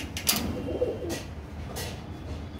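A homing pigeon kept at a loft cooing softly, with a few brief low coos and scattered faint chirps and clicks against quiet room background.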